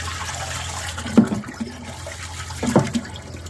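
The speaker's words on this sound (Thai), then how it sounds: "เติมน้ำครับ" Water splashes into a pesticide mixing tank on a tomato farm in Israel, a low steady rushing with two louder gushes, heard close and without speech.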